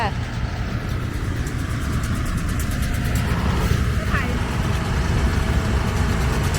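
A farm tractor driving a bale-wrapping machine as it wraps harvested grass for winter cattle feed, a steady loud engine rumble with rhythmic mechanical clatter, heard close outdoors.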